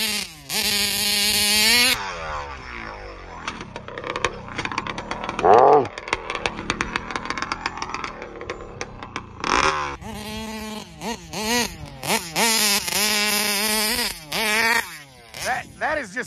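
A Taylor RC 71 Supreme nitro RC car engine screams at quarter throttle on its first tank of fuel, a loud, high buzzing whine that rises and falls in repeated bursts, with people talking in between.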